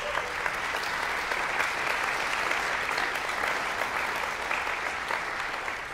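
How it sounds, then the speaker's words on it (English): Steady applause from a concert audience for piano students at a Liszt event, a dense, even patter of many clapping hands sustained throughout with no voices over it. "I think they all deserve a round of applause."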